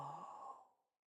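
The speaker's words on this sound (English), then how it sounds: "breathing deep and breathing out slow" A single slow, soft exhale of about a second during a guided breathing exercise, close and quiet, tapering into silence.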